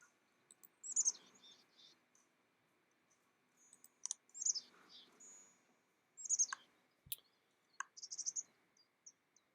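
Woodpecker calls from the Wingspan board video game, bright sharp chirps in short clustered bursts repeating about every two seconds, with faint clicks between them over a quiet background.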